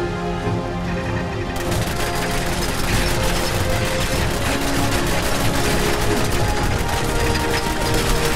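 Gunfire in the Fallout 4 video game striking a metal bucket held up as a shield, a dense, continuous barrage of rapid shots and clanging impacts that stays loud throughout.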